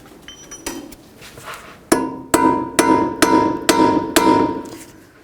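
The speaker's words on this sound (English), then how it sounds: "you can hammer on the end of this" A hammer strikes the end of a tie rod on a 2004-08 Nissan Maxima front suspension, about six sharp metallic blows with ringing tone, spaced roughly half a second apart after a few lighter taps.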